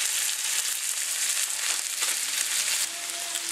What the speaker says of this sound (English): my fish is pretty much cooked all the way through, but I want to give it a nice saute on the other side as well